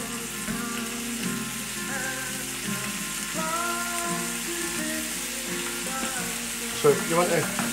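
Roasted vegetables from the oven cooking in a hot pan on the stove, a dense, steady hiss of frying that runs throughout, with a few louder crackles near the end.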